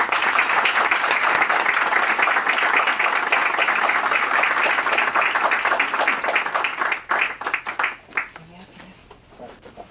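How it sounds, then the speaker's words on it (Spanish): Loud, sustained applause from a forum audience welcoming panelists at a discussion on organized crime and dictatorship in Venezuela, fading out near the end into quieter room sounds and a few scattered claps. "les ruego a todos ustedes que recibamos a nuestros panelistas con un fuerte aplauso."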